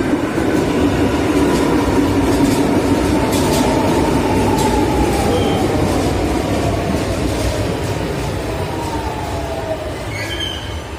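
A metro train rumbles steadily along the rails at a station platform in Fortaleza, Brazil, with a long, rising metallic squeal of wheels, loud and close, fading slightly toward the end.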